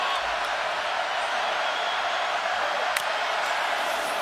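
Steady, dense roar of a large football crowd in a stadium at a college playoff semifinal, loud and continuous throughout with one brief sharp peak near the end.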